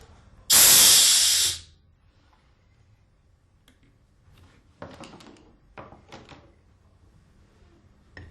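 Compressed air bursts from a valve in a loud, close hiss lasting about a second, followed by a few faint metallic clicks and handling knocks in an otherwise quiet room.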